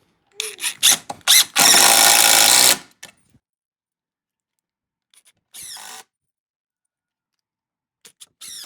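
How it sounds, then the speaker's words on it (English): An impact driver sends screws into the wooden frame of a quail house, heard as several short bursts and one sustained two-second run, followed by a few faint brief buzzes and clicks with long quiet gaps between. "I'm going to use the impact driver and send these home."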